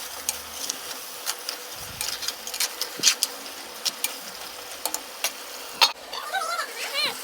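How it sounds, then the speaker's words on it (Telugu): Chicken curry is stirred in a clay pot: repeated sharp scrapes and taps of the spoon over a soft sizzle, with a brief voice near the end. "మూత పెట్టి తీసి మళ్ళా తిప్పాలి."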